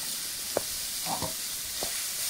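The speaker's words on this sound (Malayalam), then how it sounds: "നല്ലോണം ഒന്ന് വഴറ്റിയെടുക്കണം. ലോ ഫ്ലെയിമിലാണ് ഇട്ട്." Papaya pickle ingredients sauté over a low flame with a quiet, steady sizzle, broken by a few soft scrapes and taps of a spoon against the pan.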